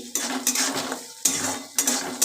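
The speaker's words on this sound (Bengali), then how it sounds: "এবার নাড়াচাড়া করে নিচ্ছি" Egg chowmein with sugar being stirred in a pan, with three bursts of bright metallic scraping and clinking of a utensil against the pan, close and loud, no voices.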